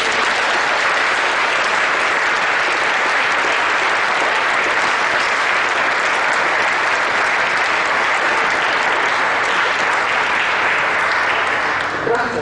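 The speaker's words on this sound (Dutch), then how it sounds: "Heel erg bedankt dat je het wilde doen en een hartelijk applaus allemaal." Sustained, dense audience applause fills a hall after a Dutch panel discussion on the constitution, steady and loud for the whole span before tapering at the very end.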